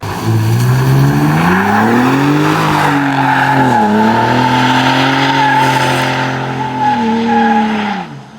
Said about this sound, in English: when it's wet out, these trucks slide freaking beautiful with the 5-link suspension